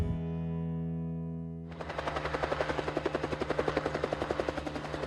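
A helicopter flies over a western Utah herd management area during a wild horse gather. A steady engine drone is followed by loud, rapid rotor chop that thumps rhythmically and close, with no talking.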